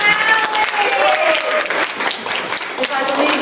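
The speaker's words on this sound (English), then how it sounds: "I like to do an unholy thing by giving ourselves a round of applause" A congregation at a church service applauding, a loud, dense round of clapping that runs steadily throughout, with voices and a speaker talking over it.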